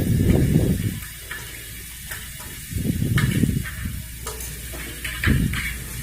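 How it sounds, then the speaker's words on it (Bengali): Garlic paste fries with browning onion paste in a pan for Bengali egg curry, with a soft sizzle broken by louder bursts of stirring and scraping, near and with no voices. "পেঁয়াজ বাটাটা আমার ভাজা হয়ে আসছে, এরপর আমি রসুন বাটা দিচ্ছি"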